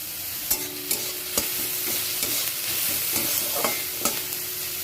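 Onions sizzling in a pan after salt is added, for a green tomato chutney, with a steady frying hiss broken by several sharp stirring clicks and scrapes of a utensil, close and alone with no talking.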